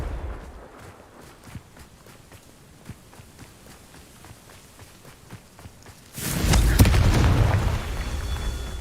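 A Confringo fire spell from Hogwarts Legacy bursts into a loud, broad blast that lingers for a couple of seconds, following several seconds of quick light footsteps and small thuds.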